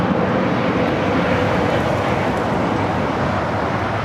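A cargo airplane takes off at Los Angeles airport, its jet engines producing a loud, steady broadband roar that holds level throughout without a break, with no voices heard.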